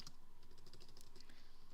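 Quick, irregular keystrokes on a computer keyboard, typing notes in another window, close and fairly quiet with soft clicks scattered throughout and no talking.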